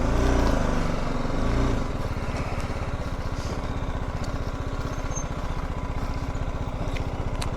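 A steady motorcycle engine drones throughout at a constant pitch, louder and rougher for the first two seconds, with faint wind noise over it.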